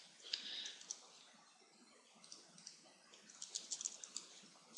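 Quiet, light keyboard typing, with short bursts of clicky keystrokes while a login username and password are entered on a computer; soft and close, no talking.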